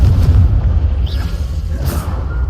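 Incendio fire spell cast in a Hogwarts video game, a loud booming whoosh of flame with bursts standing out over a steady rumbling game soundscape.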